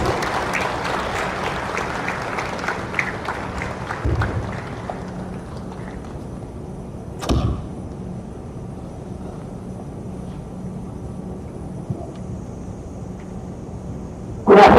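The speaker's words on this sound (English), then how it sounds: "Can we have a big round of applause, please?" A college audience at a student talk applauds loudly for several seconds, then the clapping fades into a quiet room with scattered faint noises and a brief thump near the end.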